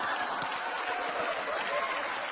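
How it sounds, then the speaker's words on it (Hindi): Loud, dense applause fills a comedy-show studio as the audience cheers a film producer, a continuous wash of many hands clapping at an even level. "इनके लिए भी जोरदार तालियां।"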